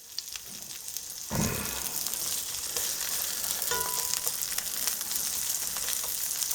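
A small broken-up onion hitting about a tablespoon of bacon grease in a cast iron pan, a sudden burst of sizzle that settles into a steady, close, crackling fry with faint stirring and no talk.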